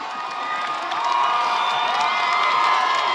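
High school football crowd at a San Dimas game cheering steadily on a third down, a continuous distant roar of voices with whoops that swells and holds throughout.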